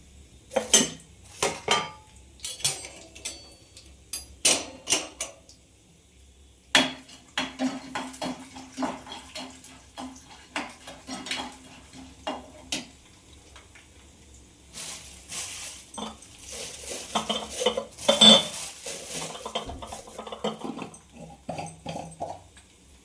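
Curry leaves, peanuts and split dals tipped into a hot pan for tempering, with repeated clinks and clatters of metal utensils and cookware and light sizzling in a quiet kitchen.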